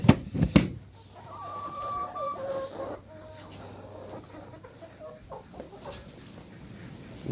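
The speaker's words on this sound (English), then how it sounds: "And these are very young chickens," Very young chickens cluck and chatter softly near a feeder in a backyard flock, with a few louder sharp calls at the start and quieter scattered clucks throughout.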